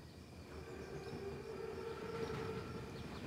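An armored train in a World War II shooter game rumbles steadily as it approaches, with a sustained tonal whine like a horn or siren running through the middle of the low, continuous rail noise.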